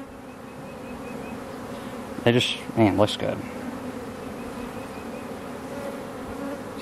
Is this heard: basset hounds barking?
no